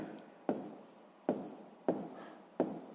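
Handwriting during a sixth-grade math lesson on decimal multiplication: four crisp strokes spaced irregularly, each a sharp tap trailing into a brief scratch, close and clear against a quiet background.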